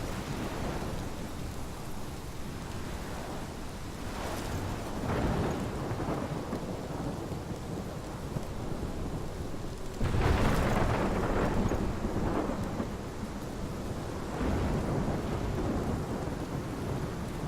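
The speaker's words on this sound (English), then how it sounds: "This is my storm. I caused this. I caused all of this." Thunderstorm with heavy steady rain in the game Life is Strange, with several deep rolling thunder rumbles swelling over the constant downpour and wind, and no voices.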